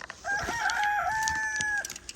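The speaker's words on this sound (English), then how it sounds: "as you can hear, the roosters are roosting up a storm" A rooster crows once nearby, one drawn-out call lasting about a second and a half, with faint clucks and farmyard noise around it.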